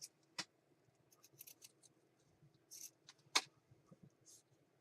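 Scissors cutting paper for a junk journal, a few quiet, sharp snips with soft paper rustling between them, close and faint, no talking.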